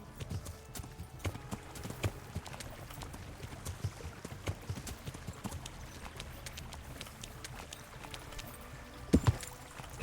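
Hoofbeats of a galloping horse in the medieval video game Kingdom Come: Deliverance, a quiet, steady clip-clop with a couple of sharper thumps near the end.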